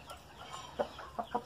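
A Polish rooster and a grey hen cluck in a few short, soft bursts against quiet background noise, with no talking.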